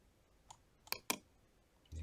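A computer mouse clicks in Word: a few crisp, quiet clicks close together near the middle, with a faint earlier tap and a soft low thump at the end.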